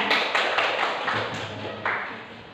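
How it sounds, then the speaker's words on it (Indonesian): A small audience at a school teacher mentoring session gives brief applause, a few bright bursts of clapping that soften over a couple of seconds, fairly close. "Ya, tepuk tangan."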